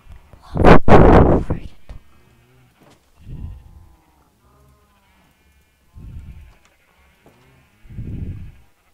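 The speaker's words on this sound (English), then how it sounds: "Alright, so I'm gonna spawn some more sheep." Minecraft sheep bleat in short separate calls, one loud bleat near the start followed by several fainter ones spread out, with quiet gaps between.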